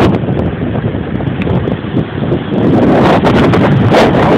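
Intense Hurricane Sandy wind in Connecticut roars and buffets the microphone, loud and continuous with heavy rumbling gusts that swell toward the end.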